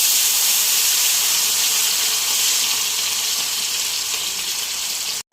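Potato peels fry in hot oil with a loud, continuous, bright sizzle and hiss that holds steady and then cuts off abruptly at the end.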